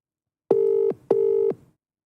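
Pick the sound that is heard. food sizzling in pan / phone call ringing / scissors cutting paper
phone call ringing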